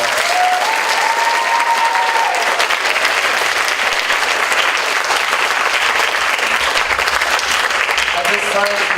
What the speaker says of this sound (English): Let's give all our speakers a great round of applause.